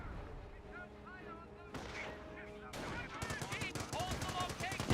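Gunfire and a mortar barrage in the Company of Heroes battle game: a dense run of rapid shots and blasts that builds to a steady crackling volley, with a faint murmur of voices under the opening.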